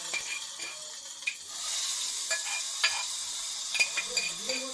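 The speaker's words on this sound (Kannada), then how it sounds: "ಎರಡಕ್ಕೂ ಒಂಚೂರು ಒಗ್ಗರಣೆ ಬಿಟ್ಟವ್ರೆ" Hot tempering is poured into tomato dosa batter and stirred, giving a steady crackling sizzle with scraping and clinking of utensils close by. Nobody speaks.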